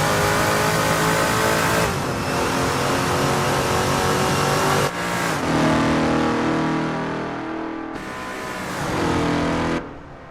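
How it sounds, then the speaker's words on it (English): Lola T70 MkII race cars in Assetto Corsa roar past at full throttle, several loud engine passes rising and falling over ten seconds with gear-change breaks between them. "The echo of the exhaust, the rubber meeting road"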